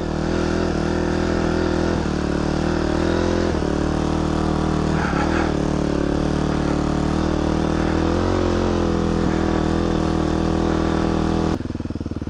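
A motorcycle rides through fresh snow, its engine droning steadily up close with uneven revving surges and a rough rumble, under constant wind noise.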